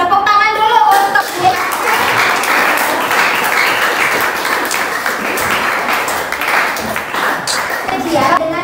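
A classroom of students breaks into a burst of hand clapping for a classmate's answer, full and continuous, with a voice speaking briefly just before and again as it fades.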